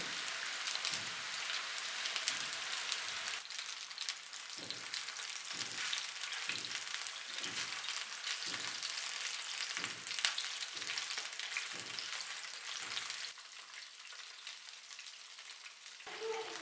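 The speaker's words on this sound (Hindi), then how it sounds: "अब इसमें मीट बॉल डालते हैं और मीडियम आंच पे इनको फ्राई करेंगे।" Meatballs fry in hot oil in a pan over medium heat, a steady close crackling sizzle with repeated soft bumps as pieces are placed or moved, continuing throughout without talk.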